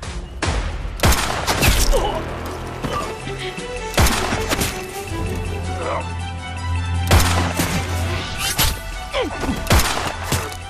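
Bursts of gunfire crack out repeatedly over a rumbling dramatic film soundtrack, with sharp loud shots spaced irregularly across the scene.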